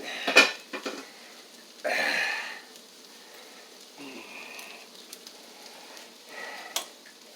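Dishes and a pan set down in a kitchen sink after cooking breakfast, a few sharp ceramic and metal clinks and a scraping clatter spread across a quiet room, with brief softer knocks near the end.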